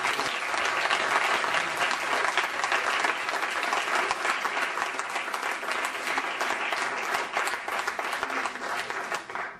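Sustained, dense audience applause at a film premiere prize ceremony, a steady wash of many hands clapping close and loud for the whole stretch with no voices on top.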